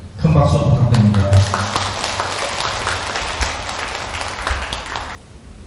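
An audience claps at a Buddhist dharma ceremony in Busan's Dongmyeong Bulwon temple, marking the publication of the Avatamsaka Sutra. A brief voice comes first, then dense, loud applause runs several seconds before stopping abruptly.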